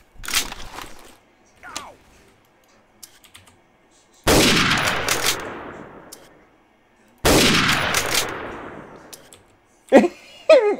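Sniper rifle shots ring out in Garry's Mod, two loud cracks each trailing off in a long echoing decay, with fainter clicks and small shots scattered around them.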